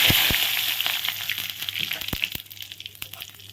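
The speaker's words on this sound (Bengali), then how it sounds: "এখন আমি ফোড়নটা দিয়ে দিব জিরা শুকনো লঙ্কা আর তেল" Cumin seeds and dried chillies dropped into hot oil, a crackling sizzle with scattered sharp pops that loudens then gradually fades, close by.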